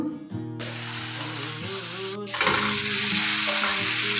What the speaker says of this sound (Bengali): মশলাটা কষাচ্ছি